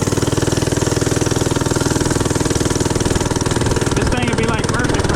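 FRP GMB-100 minibike engine running steadily near and loud, a constant mid-pitched single-cylinder putter that holds its rhythm throughout with slight roughness toward the end.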